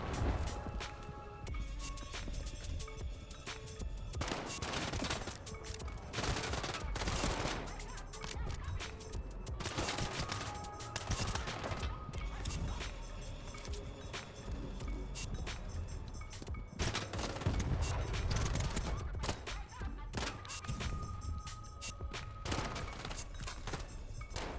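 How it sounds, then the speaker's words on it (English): Repeated sharp sniper rifle shots ring out in STALKER 2's Freedom Colosseum arena, loud and spaced irregularly amid other gunfire, footsteps and combat noise. "you should take out as many as you can with the sniper rifle as far back as possible"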